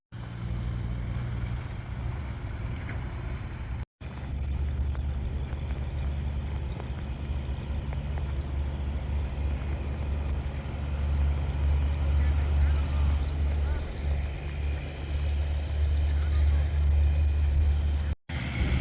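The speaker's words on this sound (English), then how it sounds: "a big old dump truck dumped off a ton of rocks. They're making all sorts of noise over here." Heavy engine rumble and broadband roar from a big dump truck dumping a ton of rocks in a snowy park, loud and continuous throughout, with a voice talking over it.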